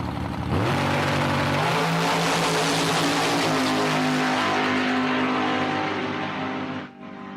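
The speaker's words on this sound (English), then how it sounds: "This thing is one of the louder cars on the property." Loud drag racing car at Empire Dragway during an Outlaws weekend, apparently fitted with a blower on top; its engine roars and climbs through the revs for several seconds before cutting off near the end.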